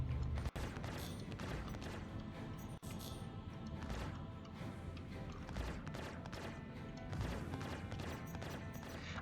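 Gunfire in the space game Star Citizen, sustained rapid shooting at an enemy with a couple of sharp cracking reports standing out, steady and dense throughout.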